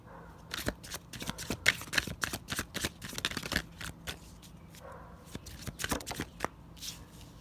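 An oracle card deck being shuffled up close, a rapid series of crisp riffling flutters and taps in uneven bursts, with a brief pause midway before more shuffling.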